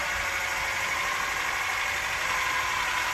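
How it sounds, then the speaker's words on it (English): Stand mixer motor labouring on low speed while mixing thick pasta dough with eggs, a steady close droning hum with a slight rhythmic vibration, heard alone. "this actually can really make your motor struggle a little bit because it's a very thick dough"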